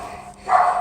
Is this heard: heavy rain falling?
no